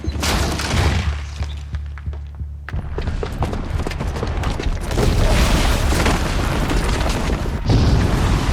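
A booby-trapped bomb blows up in Horizon Zero Dawn, a heavy booming blast followed by rolling rumble, crumbling debris and a second surge of destruction, loud and close.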